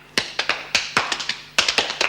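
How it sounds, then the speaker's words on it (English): Sparse, uneven hand clapping from a few women welcoming a new prison governor, close by and about two seconds long, with no voices over it. "Let's give the new governor a little clap."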